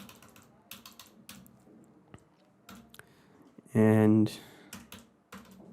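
Test card details being typed on a computer keyboard, with scattered key taps in short uneven runs, close and light. Someone speaks briefly partway through.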